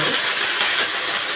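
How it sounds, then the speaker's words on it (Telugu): Green chillies dropped into hot oil give a loud, dense, continuous hiss that fills the whole moment up close, with no voices. "నేను ఆయిల్లో పచ్చిమిరపకాయలు వేస్తాను."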